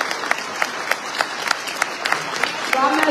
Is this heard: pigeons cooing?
no